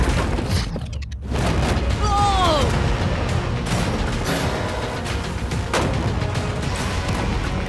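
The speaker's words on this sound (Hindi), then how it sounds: "टैंक्स पैसों पर निशाना लगाकर 20 राउंड फायर करने वाले हैं।" Tanks firing a volley of rounds at a shipping container full of money, heavy booms and sharp reports repeating over continuous crowd noise and excited voices outdoors.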